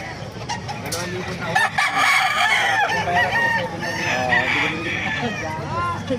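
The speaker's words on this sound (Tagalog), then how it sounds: "Ganda ng mga manok, oh." Several gamecock roosters, including Boston Sweater and Lemon Sweater breeds, crow loudly and overlap, with hens clucking and other fowl noise around them in a busy yard.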